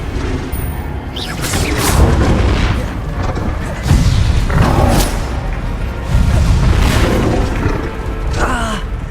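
Spell explosions in the Hogwarts Legacy video game burst as a series of loud booms, four or five heavy blasts spaced a couple of seconds apart over constant battle noise, with a voice shouting spell names between them.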